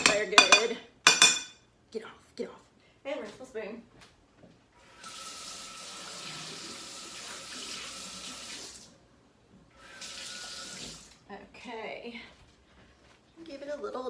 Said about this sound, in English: And rinse my spoon.